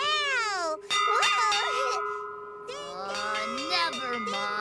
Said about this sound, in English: I'm ringing this bell!